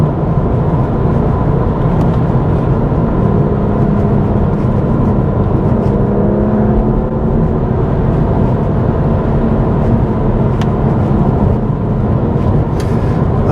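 A car accelerates through a corner with a loud, steady engine roar and road rumble throughout, a faint rising engine tone mid-way, no voices.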